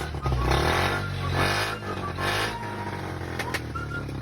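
A motorcycle engine runs steadily close by, a low rumbling drone with slight revving swells throughout.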